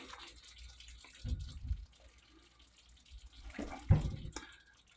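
Half a cup of purified water poured in a kitchen, a soft trickle with two brief louder splashes, one early and one near the end, against a quiet background.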